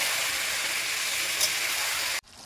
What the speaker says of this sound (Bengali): এবার মাটনগুলো দিয়ে দেবো। ভালো করে কষিয়ে নেব।